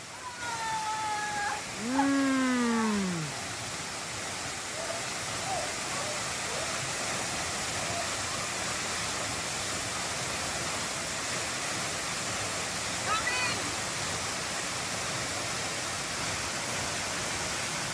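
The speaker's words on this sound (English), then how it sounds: "Look at the waterfall." A waterfall pours into a natural swimming pool, a constant, dense rushing roar that fills the whole stretch, with a few brief bird-like calls near the start.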